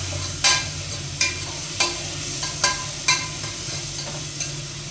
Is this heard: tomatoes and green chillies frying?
yes